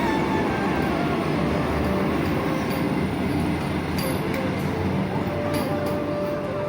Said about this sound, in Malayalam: പുലിയൂരിൽ നിന്ന് വരുന്ന ട്രെയിനാണ്